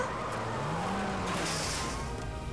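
Small cartoon van drives up with a steady engine note that swells and rises in pitch briefly, plus a short tire-like squeal, moderately close with no talking.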